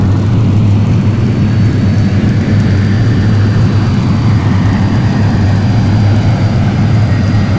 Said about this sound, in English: Deploy spoilers, reverse thrust.